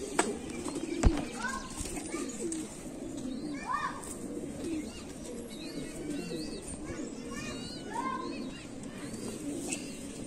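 Several pigeons, including golden, dub-wale, teddy and kamagar breeds, coo in soft, repeated throaty phrases nearby, with someone talking over them and a sharp knock early on.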